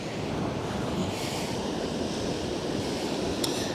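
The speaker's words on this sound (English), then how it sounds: "the waves that are hitting the shore is the wake from the Ro-Ro" Wake waves from a passing Ro-Ro ship wash onto the Westerschelde shore on a summer evening, a continuous near surf rush with wind buffeting the microphone, fairly loud and without speech.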